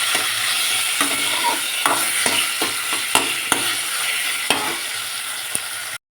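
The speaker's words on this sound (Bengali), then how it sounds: "খেজুরটা দিয়ে একটুখানি নাড়িয়ে নেব।" Dates stirred in a frying pan for a mango-leather chutney: a soft sizzle under repeated sharp scrapes and knocks of a spoon against the pan, close and clear, with no talk.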